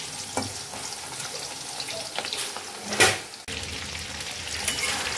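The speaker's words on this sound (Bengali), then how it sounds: "এবার ওই একই প্রসেসিংয়ে আলুগুলোকে ভেজে নিচ্ছি" Potato pieces frying in hot oil in a pan, after aubergine was fried in the same oil: a dense, steady close sizzle with a few crackles and soft clinks, plus one brief louder burst of spattering midway.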